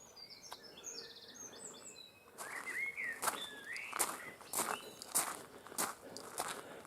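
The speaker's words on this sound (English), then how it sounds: "Lovely bird song." Birds sing and chirp on a quiet rural morning walk past an old church and cow pasture, bright whistled phrases and calls at moderate distance, with soft footsteps underneath.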